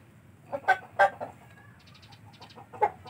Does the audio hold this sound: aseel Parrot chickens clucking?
yes